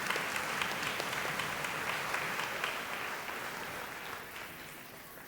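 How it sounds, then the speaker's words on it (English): A school crowd gives sustained, fairly even applause at an intermediate school awards day ceremony, with many hands clapping together and the sound gradually tapering off. "Give them a round of applause."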